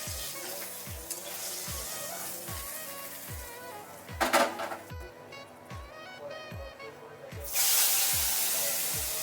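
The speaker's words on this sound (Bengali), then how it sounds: "আলুগুলো একটু ভেজে নিচ্ছি।" Potatoes frying in a pan for a Bengali-style fish curry with spinach, a steady hiss and sizzle under a repeating rhythmic beat, with a louder spray of sizzling near the end.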